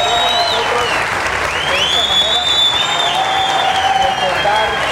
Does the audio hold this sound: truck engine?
no